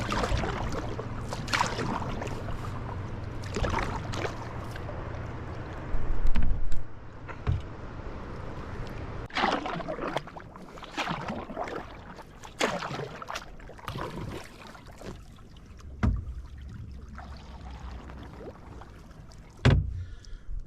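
Paddle strokes from a solo canoe crossing a lake on a multi-day trip, a series of irregular close splashing and dipping sounds with bumps against the hull, steady low background, no voices.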